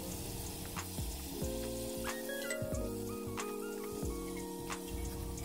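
Spice mixture and peas hitting a pan of frying cauliflower curry, a quiet continuous sizzle with faint ticking pops over a low steady hum, close by.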